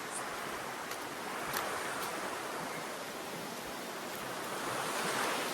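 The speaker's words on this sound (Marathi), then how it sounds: "इकडे आहे आमची नदी." A river flowing outdoors, a dense, constant rushing of water that fills the scene and swells slightly near the end, with no voices.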